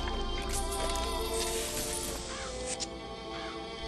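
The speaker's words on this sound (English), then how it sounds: "Murder of crows." Crows cawing from the Murder of Crows vigor in Bioshock Infinite, harsh calls rising over a dense, steady game soundscape with music and effects throughout.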